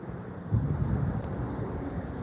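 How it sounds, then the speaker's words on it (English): A helicopter passes overhead in East Bernstadt, Kentucky, its engine a faint, distant, steady drone with a soft high whine, heard alone without talk. "It's another chopper."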